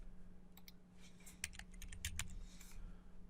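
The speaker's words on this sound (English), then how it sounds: "So I'm just going to go down here and type in Notepad." Keys on a computer keyboard clatter in a quick, irregular burst of typing, faint and close against a low background hum.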